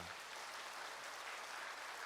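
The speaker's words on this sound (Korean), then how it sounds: "박수 한번 우리 더 보내주시겠습니다" Church congregation applauding together, a steady dense clapping that fills the room evenly from start to finish.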